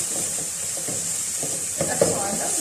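Garlic frying in a pan as the start of a meat soup, a soft continuous sizzle with light stirring scrapes and a small clatter near the end.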